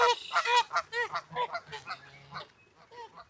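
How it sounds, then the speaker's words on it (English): A group of geese honk repeatedly in a rapid, overlapping series near a golf course outdoors, loud at first and then fading and spacing out, with no talk. "geese can get really aggressive"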